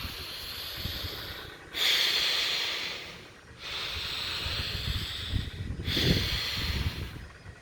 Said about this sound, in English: Block up the left. Let's inhale with the right.